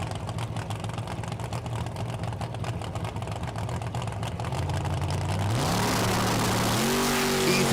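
A big-wheel-standing 1970 Ford Mustang drag car at Las Vegas Motor Speedway drag strip, its engine rumbling steadily at the line before surging into a loud rising roar as it launches, with pitch climbing through the final seconds.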